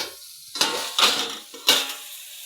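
A plate set over a pan of okra on a low gas flame makes three sharp ceramic-on-metal clinks spaced about half a second apart, each ringing briefly over a soft background hiss.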